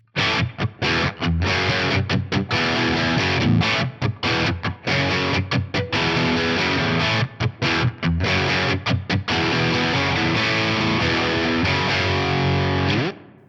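Heavily distorted electric guitar on the bridge humbucker through an Axe-Fx III, playing a driving rock riff with chords and short breaks, loud and continuous, with no talking.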